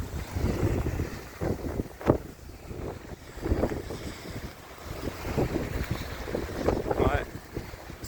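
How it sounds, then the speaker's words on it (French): Strong wind blowing outdoors on a freezing-rain day in Quebec, a continuous rough rumble buffeting the microphone with gusts that swell and ease over several seconds, loud and close. "Beaucoup de vent."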